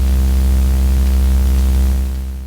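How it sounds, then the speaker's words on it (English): Loud, steady hiss of synthesizer white noise layered over a low droning hum, fading slightly at the end. "And then we also want to add in a white noise as well."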